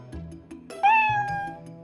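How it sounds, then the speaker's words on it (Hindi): A cat meows loudly and repeatedly in a noisy tug-of-war scuffle, with one long, rising, strained yowl standing out near the middle, up close and alone with no voices. "बिल्ली जोर से म्याऊं म्याऊं करती है।"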